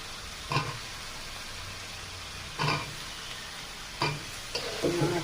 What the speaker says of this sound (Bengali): এবার আমি বেগুনগুলো দিয়ে দিচ্ছি।